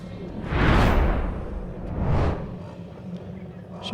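Junior speedway motorcycles ride out onto the track for Heat 2 at an Armadale Angels v Teesside Tigers meeting, two loud broad swells of engine noise sweeping past one after another before fading to a low rumble.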